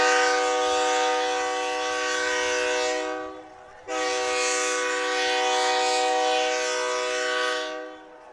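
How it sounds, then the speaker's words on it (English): A loud, sustained train horn sounds near a varsity high school football field, two long blasts with a brief gap between them, standing alone and drowning out everything else. "I don't know where that train horn is"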